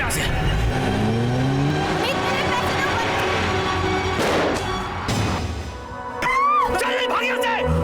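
A car engine revs and the vehicle pulls away fast, roaring close by and fading, with tire noise and hurried voices in the scene before a sudden screech near the end.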